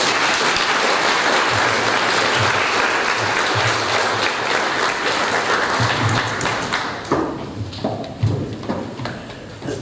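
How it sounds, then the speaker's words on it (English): Audience applause at an Australia Day awards ceremony in Cowra, a loud sustained wash of many clapping hands that thins out and fades into scattered claps near the end. "a round of applause as they leave"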